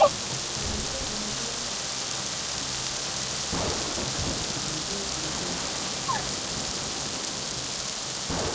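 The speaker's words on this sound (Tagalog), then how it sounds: "Ulan lang to at kidlat." Steady, hissing rain pours down in a forest during a thunderstorm, a constant even wash of sound with low thunder rumbling in the background and no voices.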